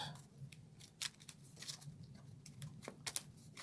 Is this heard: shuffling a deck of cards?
yes